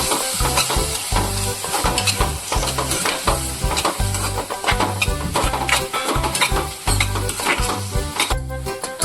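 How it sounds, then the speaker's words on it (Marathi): Finely chopped tomato sizzles and fries in a pan for prawn masala, with a spoon stirring and scraping in a steady rhythm, loud and close throughout. "टोमॅटो बारीक कापलेला आहे मस्तपैकी टाका। आणि मग आपण याला मस्तपैकी परतवूया।"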